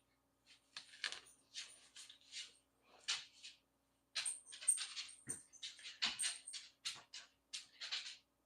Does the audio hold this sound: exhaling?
no